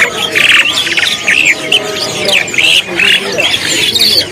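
A young starling in a bird shop sings loudly and continuously, a close run of bright chirps, squawks and whistled phrases with no pauses.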